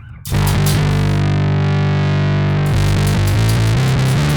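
A bass guitar run through a distortion plugin rings out in a thick, buzzing sustained tone after a brief pause, with gritty saturated overtones.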